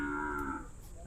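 A Khillar bull gives a single short, close moo at a cattle show in Chimangaon, heard on its own.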